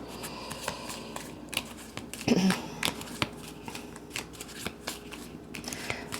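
Tarot cards shuffled and drawn by hand, with crisp riffling bursts and flicks repeating through a quiet room and a louder flurry of shuffling partway through.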